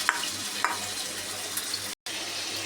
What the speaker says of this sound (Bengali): এবার গরম তেলের মধ্যে মাংসগুলো ভেজে নিব।